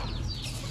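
A hen clucks at close range in a brief, continuous burst of farmyard noise, with no voices.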